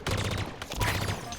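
A Halo Infinite plasma carbine fires in two quick bursts of rapid energy shots, sharp and loud with a buzzing electronic tail in a game setting.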